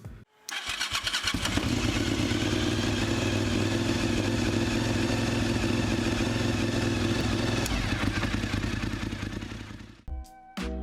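A Bimota motorcycle engine starts and idles loudly with a steady, throbbing rumble for several seconds, then cuts out near the end before a brief clatter.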